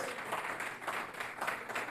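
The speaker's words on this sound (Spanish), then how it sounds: "déle un fuerte aplauso al Rey de Reyes." A church congregation applauds together in a sustained, dense wash of clapping that stays steady throughout, without any voice cutting through it.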